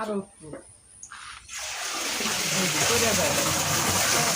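Water pulled up from a well in a rural Bangladeshi home pours and gushes steadily and loudly after a brief quieter moment, with a voice talking near the start.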